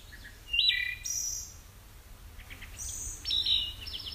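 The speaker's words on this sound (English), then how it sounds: "There's the bird call." Field-recorded bird calls: a few high, bright chirps and short whistled notes in separate bursts over a steady low background hiss, fairly faint and distant.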